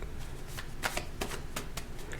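Tarot cards are shuffled in quick riffling bursts, a papery flutter repeating close by at moderate volume.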